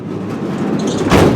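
The sliding door of a Mercedes Sprinter camper van being converted and insulated rolls along its track with a steady rumble, ending in a louder thud-like burst as it closes near the end.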